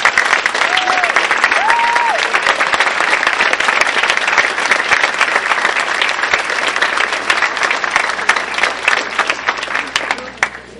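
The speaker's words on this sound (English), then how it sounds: "please stand up so we can applaud them for their work" A large audience at a university civil rights commemoration event applauds in a long, dense, loud burst of clapping that holds steady for about ten seconds, with a faint voice early on.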